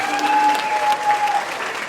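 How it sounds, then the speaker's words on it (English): An audience applauds at a community bike-a-thon stage show, a dense, steady burst of clapping with a brief tone running underneath. "Give her a big round of applause."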